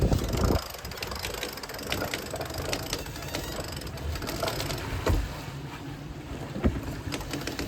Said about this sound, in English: We are sailing beautifully now. Engines off, wind in the right direction.